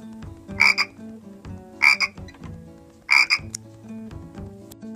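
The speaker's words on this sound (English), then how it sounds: "Frog." A frog croaks in three loud, spaced bursts over light background music.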